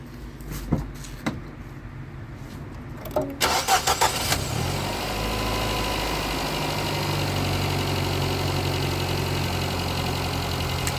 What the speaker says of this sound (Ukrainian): І тепер запускаємо автомобіль.